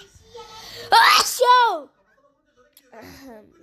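A single loud, close sneeze with a sharp burst and voiced trailing tail, followed by a short pause and a bit of nearby talking.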